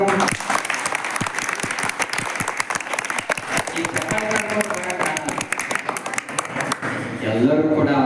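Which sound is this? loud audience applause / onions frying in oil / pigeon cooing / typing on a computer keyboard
loud audience applause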